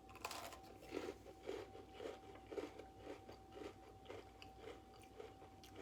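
Quiet, close crunching as someone bites into and chews a hot cocoa Oreo cookie, about ten rhythmic crunches evenly spaced over several seconds.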